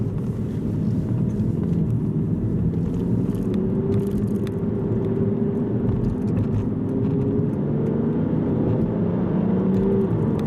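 An Aston Martin Virage sports car drives along at moderate volume, its engine note rising gradually with steady road and wind noise as it accelerates, heard from inside without talk.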